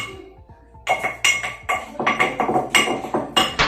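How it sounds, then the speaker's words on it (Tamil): Garlic is pounded with a pestle while mutton curry is prepared village-style, giving about a dozen sharp, ringing strikes in a steady rhythm, close and loud. "இதான் உலக்க எடுத்து இப்படி டொக்கு டொக்கு டொக்குன்னு குத்தணும்"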